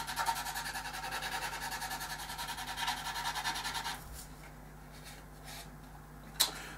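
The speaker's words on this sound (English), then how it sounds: "I just want to quickly knock off any excess on there with a coarse sanding stick" Steady scratchy rasping of a coarse sanding stick rubbing back and forth over excess super glue for about four seconds, then a quieter pause with a few light scrapes and a sharp tap.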